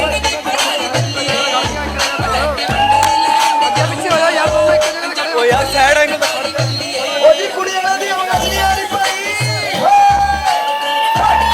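Guests at a ring ceremony cheer and whoop over loud music with a pounding beat, shouts and yells rising from the crowd in continuous waves.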